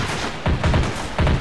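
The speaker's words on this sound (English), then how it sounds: "By turning into a running gun battle here." Gunfire in a running gun battle in a modern war strategy game, with heavy bursts of shots in uneven groups that sound loud and close.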